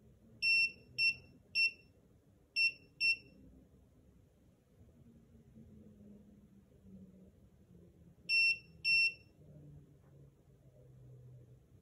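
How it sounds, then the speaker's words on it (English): A SARCTRAC Mk2 3D sensor emits sharp electronic beeps during factory calibration, a quick run of five short tones followed by a pause and then two more, loud and close over a low background hum. "We search around that point until SARCTRAC stops beeping."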